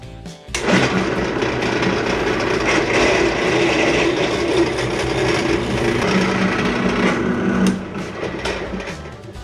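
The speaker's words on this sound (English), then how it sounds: "we'll finish drilling the 4 countersink holes all the way through the block" A power drill bores countersink holes through a wooden block for a newel post installation, running as one steady, loud, continuous whir of motor and bit biting into the wood for about seven seconds before easing off near the end.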